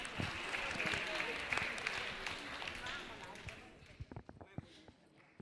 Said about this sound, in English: Big round of applause for our seniors again.